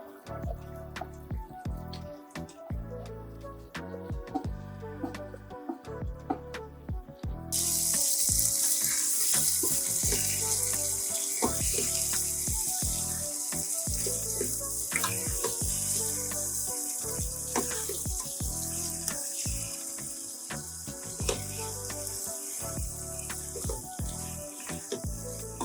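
Chicken hits hot oil for Bangalore-style donne biryani, bursting into a loud, steady sizzle partway through that continues close and dense to the end, over a rhythmic low background.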